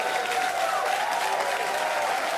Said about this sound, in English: You can hear the SpaceX crew cheering in the background as well.